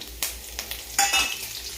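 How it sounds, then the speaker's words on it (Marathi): Crackling sizzle of cumin seeds popping in hot oil, with a few sharp bursts and a steady hiss underneath, close up. "जिरी चांगली तडतडू देऊ"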